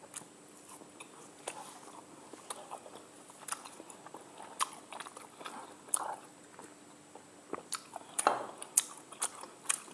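Close, crisp crunching and sticky chewing of a sesame-coated glutinous rice snack, with irregular bites and mouth sounds through the clip and no talk.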